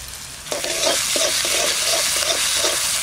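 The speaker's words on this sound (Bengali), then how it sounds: "আদা রসুন বাটাটা দিয়ে দেবো" Onion frying in oil with ginger-garlic paste added, a steady loud sizzle throughout with a series of rhythmic spoon-stirring scrapes, about five strokes, starting half a second in.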